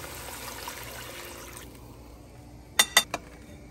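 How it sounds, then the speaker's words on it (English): Half a quart of water is poured into a pot holding duck, a soft liquid pour at first, then quiet, followed by three sharp clinks near the end. "I'm gonna add 1/2 quart of water."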